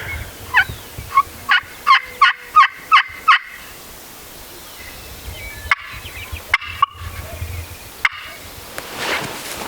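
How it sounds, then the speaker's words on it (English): A wild turkey gobbles nearby on a remote public-land ridge. Rapid loud gobble bursts come in a quick series, followed a few seconds later by several sharper scattered calls, with a quiet outdoor background between them. "Bird just gobbled not very far."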